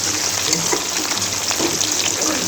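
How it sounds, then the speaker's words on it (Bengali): Katla fish frying in hot oil for a kalia curry gives a steady, dense crackling hiss that stays fairly loud and even throughout, with no voices. "এটা ফ্রাই হচ্ছে"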